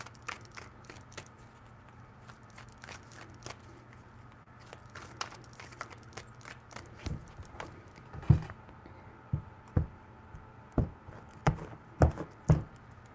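Tarot cards shuffled three times, a series of crisp riffling taps that grow louder and more rhythmic toward the end, close and alone in a quiet room.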